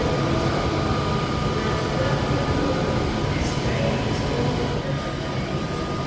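A passenger train rumbles loudly and steadily as it pulls out of a station on a scenic circular railway route to Cumbria, a continuous low roar with no distinct pauses.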